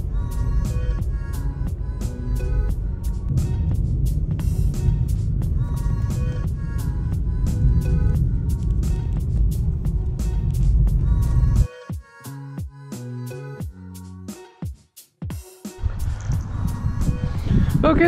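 A car climbing mountain roads in Japan in bad weather, with a steady loud rumble of engine and road noise, then a brief mix of clunks and tones before the drive resumes.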